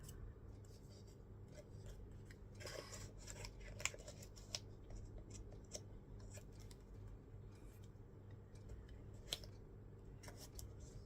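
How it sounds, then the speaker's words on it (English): Scissors snip through small paper pieces for an art journal, with scattered faint crisp cuts and light paper rustles spread across the stretch, quiet and close against a low steady background hum. "Cut them in half like I normally do, just to create more layers."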